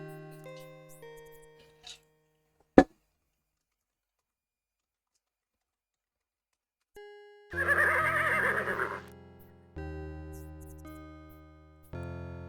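A horse in the video game Conquests of the Longbow gives a short synthesized neigh, heard alone after a sharp click and a stretch of silence, among brief tonal game music bursts.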